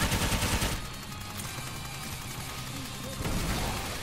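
Rapid automatic gunfire rattles in Sword Art Online Fatal Bullet, a loud burst at the start, a quieter stretch of battle noise, then another volley near the end.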